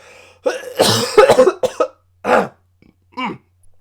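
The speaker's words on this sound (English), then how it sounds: "hold on, I got a cough" Several harsh coughs and throat-clearing bursts in an irregular sequence, close and loud, separated by brief silences.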